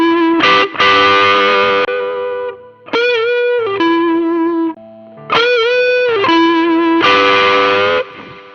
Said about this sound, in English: we have a little bit more of a raunchy kind of overdrive